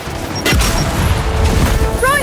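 A frag grenade explosion in the Gears 5 shooter game, a loud, sudden boom followed by rumbling debris and continuing combat noise, with a voice briefly heard.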